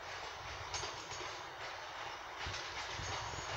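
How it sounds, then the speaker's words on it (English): Northern train 146447, a diesel unit in ex-ScotRail livery, arriving at Carnforth Platform 2 on the West Coast Main Line, a steady distant rumble with faint wheel clicks and gentle swells, fairly quiet throughout. "the next train to turn up onto Platform 2 is going to be the 1747 Northern service to Barrow in Furness"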